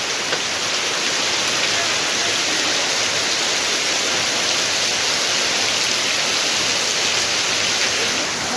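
Heavy rain pours steadily at an open market, a dense, even hiss of downpour with no breaks, filling the space at constant loudness.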